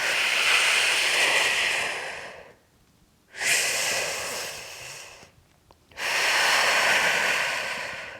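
A person breathes out while bracing the core during a pregnancy weightlifting exercise, giving three long, close, audible breaths with short quiet pauses between them.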